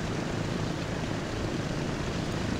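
Steady airplane engine drone inside Transport Fever, a broad, even roar holding constant throughout with no voices and no audible change in pitch.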